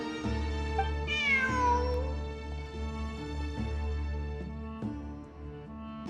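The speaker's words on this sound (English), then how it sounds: "Look, a cat." A cat meows in the fantasy action game Genshin Impact: a few soft meows rise over a steady, sustained musical score, with no voices.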